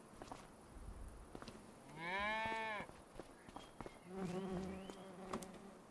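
Cattle in Farming Simulator 25 on a farm pasture, with a single clear moo rising in the middle and a second, fainter low call near the end over a soft buzz of flies and outdoor ambience.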